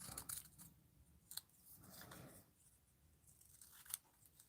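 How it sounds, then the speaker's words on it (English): Scissors snip through small paper flower pieces cut for a daffodil-themed journal, giving a few sharp, close cuts spaced irregularly in a quiet room with no talking. "I'm just trimming this up"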